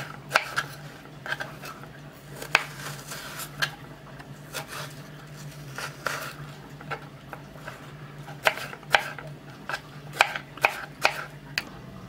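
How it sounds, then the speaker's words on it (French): A knife repeatedly taps and cuts an apple into small cubes on a board in uneven bursts of crisp chops, close by, with a low hum underneath. "Ma pomme, je vais la couper en petits morceaux."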